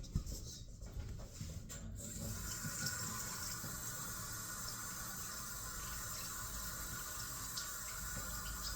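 Cold water runs steadily from a tap into a bowl of flour and a little oil for dumpling dough, a continuous close splashing stream with no talk.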